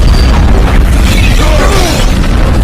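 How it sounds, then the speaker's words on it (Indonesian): A car blows up in an action film, a loud, sustained booming roar with rumbling debris and crackle filling the whole moment. "mobil sang jenderal pun meledak"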